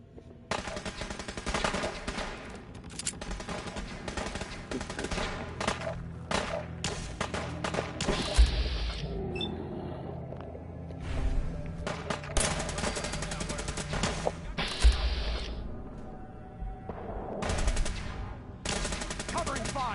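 Rapid bursts of gunfire fill a Fallout 4 firefight, with repeated machine-gun volleys, heavy thuds and short pauses that keep going throughout, loud and close.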